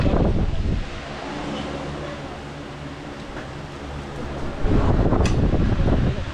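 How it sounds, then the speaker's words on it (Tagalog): An electric fan whirs steadily indoors at a busy eat-all-you-can crispy pata restaurant, a continuous airy hum with bursts of nearby chatter and clatter at the start and end. "pag ipatay na lang po yung electric fan"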